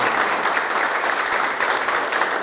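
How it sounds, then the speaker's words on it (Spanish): Audience applause at a sports awards ceremony honoring athletes, including adapted-sports competitors, recognized by a city council: a dense, steady wash of clapping that holds loud and even throughout, with no voices over it. "Un fuerte aplauso."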